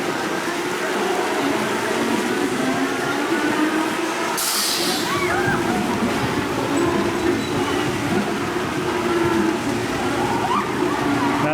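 Steady broadband rushing hiss of water spraying around a Top Spin amusement ride at Canada's Wonderland, continuous and fairly loud outdoors, with a brief brighter burst near the middle and faint crowd talk underneath.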